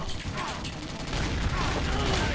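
Dense, continuous gunfire from a shooting video game fills the clip, loud and steady with a harsh, noisy texture and no clear gaps between shots.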